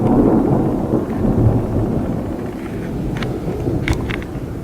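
Steady heavy rain pours during a morning grocery trip, a dense continuous wash with low rumbling like wind or distant thunder, and a few brief higher crackles near the end.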